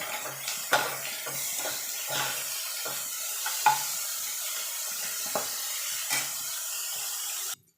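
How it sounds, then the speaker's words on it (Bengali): Carrot and cabbage sizzle steadily in a pan for egg chowmein while a utensil stirs and scrapes, giving sharp clinks every second or so over a constant bright frying hiss. "এবার এর সঙ্গে একটু ভাজা ভাজা করে নেব।"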